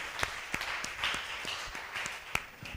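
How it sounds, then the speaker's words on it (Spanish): Quiet, sparse applause from a church congregation, individual claps landing irregularly over a soft wash of crowd noise at a distance. "Sí, Señor, para ti es el aplauso."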